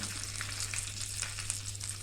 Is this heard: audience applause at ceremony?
no